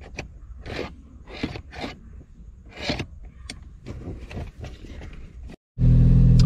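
Inside a Ford Focus ST, a run of scattered clicks and rustles as trim is fitted, then a short pause before the engine suddenly fires and settles into a loud, steady idle.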